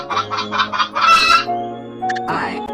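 A hen clucks in a quick rhythmic series, then lets out a louder squawking call, close by.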